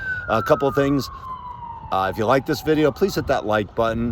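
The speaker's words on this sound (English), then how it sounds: "so you can hear the sirens in the background." An emergency siren wails in the background, one faint falling tone drifting beneath someone talking close by.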